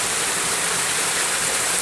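Cold water rushing in a stream or waterfall in a Punjab village, Pakistan: a steady, loud, close broadband roar with no pauses or voices.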